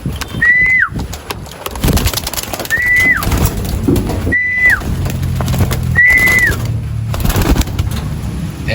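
Pigeons give four rising-then-falling whistling coos at even intervals as they are let out of their cage, loud and close over a busy background of rustling and handling noise.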